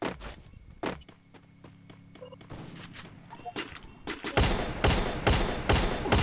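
Bursts of sharp video-game gunshots in a Free Fire ranked squad match, scattered at first and then a rapid dense volley toward the end, with thuds and movement sounds between.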